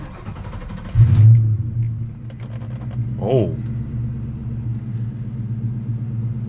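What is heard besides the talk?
Ford Mustang SN95 Cobra engine starting after fuel pump install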